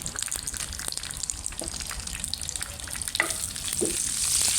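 Bay leaves and dried chillies fry in hot oil for a papaya stir-fry, a steady close sizzle with scattered crackles and pops that grows slightly louder toward the end.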